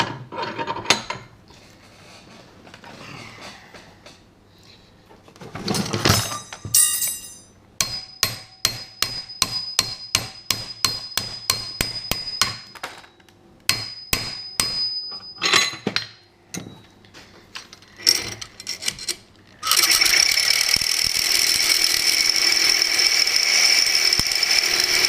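Repeated sharp metallic strikes and rattles come first, then a reciprocating saw with a Maxim blade starts and cuts stainless steel in a loud, continuous buzzing grind close by.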